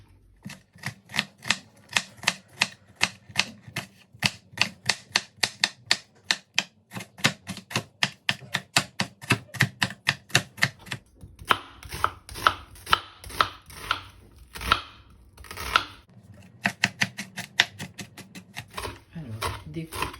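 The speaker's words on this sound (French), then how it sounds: "Découpez vos poivrons." Bell peppers chopped with a knife on a cutting board, a fast steady run of crisp close taps that later turns into looser, irregular strokes and scraping.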